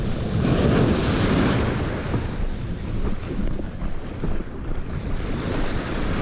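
Ocean waves and surf rushing against a Bonafide SS127 boat, a loud, continuous churning wash with wind buffeting the microphone and no talking.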